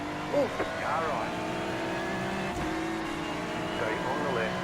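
Engine of a rival race car running alongside in a sim racing championship, a steady drone with a brief passing swell, mixed with a voice talking over it.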